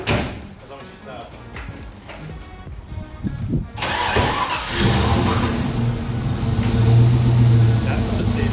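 A Nissan GQ Patrol engine cranks and catches around the midpoint, settling into a loud, steady idle with a droning low hum, after some earlier clanks and knocks in a garage.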